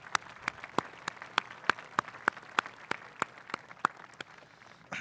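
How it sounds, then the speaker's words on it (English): A small crowd at a high school graduation claps steadily, individual sharp claps ringing out at an even pace, fairly faint and distant with no talking over it. "let's give a round of applause to our families here tonight"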